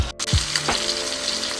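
Shrimp and salmon sizzle in a pan of homemade herb compound butter with honey, a steady close frying hiss with a brief knock as the shrimp go in.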